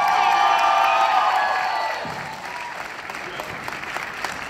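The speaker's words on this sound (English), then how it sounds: "Y'all clap it up for Sandy Red." An audience applauding and cheering at a live comedy or music show, loud clapping with whoops and crowd noise that gradually fades down to scattered claps.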